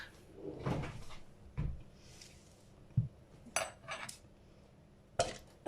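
Clattering kitchen utensils and a spoon being handled while a sauce is made, several sharp clinks and knocks spaced irregularly, near and moderately loud with quiet gaps between.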